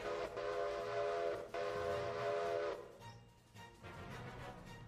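Train whistle sounding at a railroad crossing, a steady, fairly distant tonal blast broken by brief gaps, fading after a few seconds into softer rumbling rail noise.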